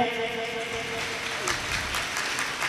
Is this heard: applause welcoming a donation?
yes